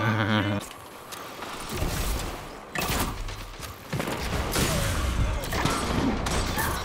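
An overpowered auto rifle firing in Destiny 2, heard as loud, continuous rapid automatic bursts with brief pauses, mixed with in-game effects and faint speech.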